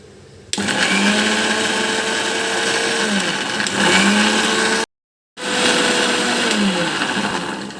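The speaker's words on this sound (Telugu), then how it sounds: "ఇప్పుడు మిక్సీ వేస్తాను" A mixer grinder grinding chutney whirs loudly and steadily, cuts out for a moment, then starts up again with the same droning hum.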